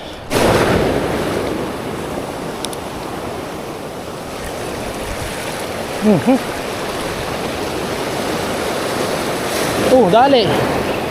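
Rough waves crash and wash continuously along a rocky shore, a loud, steady roar of surf with brief voices rising faintly over the water.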